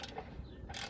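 A ratchet tightens a bolt during a transmission install on a C4 Corvette, giving a brief burst of close metallic clicking at the start and another near the end, with no talk.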